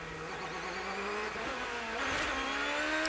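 A 2007 Champ Car runs at the Long Beach street circuit, heard onboard with driver Justin Wilson as the engine screams and shifts, its pitch dropping and rising again through the gears, loud and continuous.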